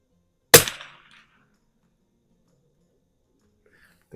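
A single sharp crack from a 1972 Anschutz 54 model 1407 target rifle with a Balvar 24 scope at a shooting range, close and loud, fading quickly into near silence.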